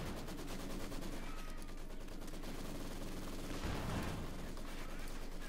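Maxim machine gun fire in Company of Heroes 2, rapid rhythmic bursts running throughout at moderate loudness with a heavier blast near the end and other battle noise mixed in.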